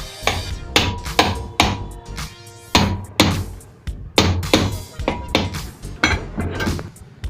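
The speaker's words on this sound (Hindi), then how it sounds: "यहाँ चोट लगानी है हथौड़े से" A hammer strikes the pipe on a cooler motor being reassembled, delivering about a dozen sharp metallic blows at an uneven rhythm, close and loud, with a short ringing after some hits and no speech.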